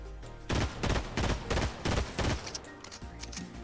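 Hyperburst pistol fire in the video game Fortnite: a string of rapid, punchy shots in quick bursts, loud and close, easing into softer, sparser shots toward the end, with no voices.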